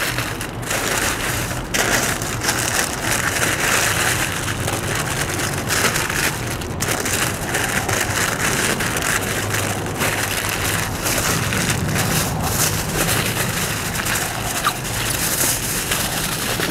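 Beef ribs being wrapped tightly for indirect cooking, a steady crinkling and rustling of wrapping material that runs without pause, close and fairly loud, with no talking.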